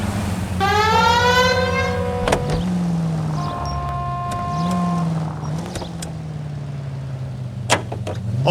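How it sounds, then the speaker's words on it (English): A vehicle siren wails in rising and falling tones, with a fast warbling sweep early on, then steadier tones over engine rumble and road noise. "We have a siren."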